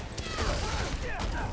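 Automatic gunfire rattles through a busy Spider-Man: Miles Morales fight, a dense continuous volley mixed with impacts and game noise, loud and sustained throughout.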